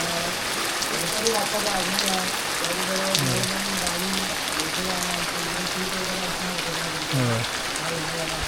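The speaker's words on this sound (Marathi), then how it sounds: "पावसाला मस्तपैकी सुरुवात झाली आहे." Monsoon rain falls steadily in a Konkan village, a dense, even hiss of drops on surfaces, close and continuous, with voices faintly talking beneath it.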